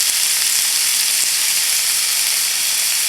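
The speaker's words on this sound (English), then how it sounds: "Put that all in the pan on a medium heat. Let those vegetables sweat down a little bit for a couple of minutes." Diced onion, celery and carrot sweat over medium heat in a pan, producing a loud, continuous, even sizzle close up, steady throughout with no stirring or voices.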